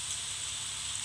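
Steady rain falls in a video game, a continuous even hiss of droplets with no voices.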